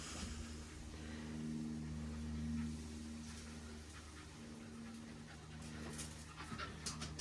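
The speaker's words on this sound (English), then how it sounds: "The dog's just come in to see me." A dog pants rapidly and steadily on a very hot day in a pottery studio where a glaze kiln is being unloaded, close by and continuous for several seconds with no talking.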